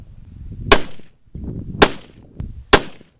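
A Weatherby Compact Hunter .308 rifle fires three sharp, loud cracks about a second apart, each with a short ringing decay.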